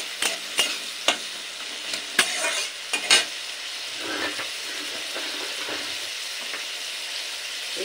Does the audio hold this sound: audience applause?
no